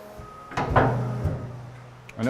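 A hydraulic press door being opened in a workshop, a sliding clunk followed by a sustained low scraping rumble, with a second knock and a later click, close and moderately loud.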